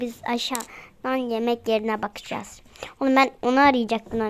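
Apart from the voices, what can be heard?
None of the usual background noises is heard.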